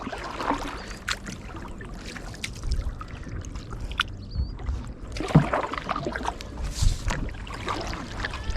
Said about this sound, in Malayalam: നമ്മളിങ്ങനെ തുഴഞ്ഞു തുഴഞ്ഞ് പോകും ഓരോ സ്പോട്ടിൽ